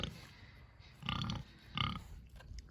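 A pig named Curly grunts close by on a small farm, giving two short rough grunts about a second apart amid quiet background.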